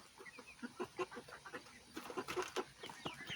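Chickens in a backyard pen cluck in short, repeated bursts, several birds close by with a busier flurry of squabbling clucks partway through, no talking.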